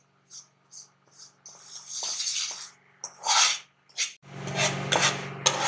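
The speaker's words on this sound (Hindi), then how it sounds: "घी डाल के मैं सूजी को अच्छे से भून लूंगी।" Semolina being roasted in ghee in a pan over a low flame and stirred with a spoon: short separate scraping strokes at first, then a louder, continuous rasping stir close by.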